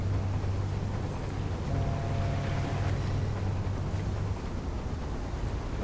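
A large ship in the simulation game Seafarer The Ship Sim creeps through the water with a steady low engine drone under a constant broad wash of water and wind, unbroken throughout.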